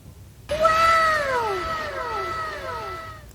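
A cat meows loudly and close by, two or three drawn-out, falling meows overlapping one another against a quiet background.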